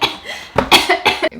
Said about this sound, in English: Really random cough